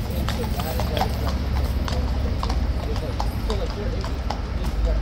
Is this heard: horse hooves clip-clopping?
yes